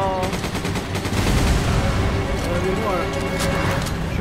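Rapid gunfire in the video game Resident Evil 5, a dense string of sharp shots and bursts running throughout, with a player talking over it.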